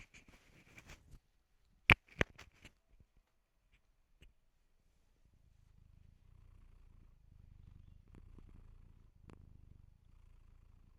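A cat purrs softly and steadily in the second half, a low continuous rumble that is close and quiet, after a few sharp handling clicks and brief rustles at the start.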